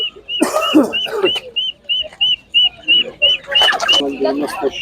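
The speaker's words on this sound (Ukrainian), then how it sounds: "Дуже гарні цесарочки, це великий вибір" Guinea fowl at an animal market in Ivano-Frankivsk give a steady series of short, evenly spaced high calls, repeating about every half second, with people talking over the start and the end.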